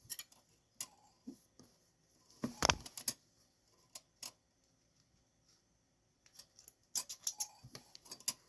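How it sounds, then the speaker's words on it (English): Scissors snip loose threads off a freshly sewn buttonhole made with an industrial buttonhole attachment: a handful of sharp, quiet clicks scattered across a mostly hushed stretch, with a small cluster of snips near the end. "Clipping my threads real quick."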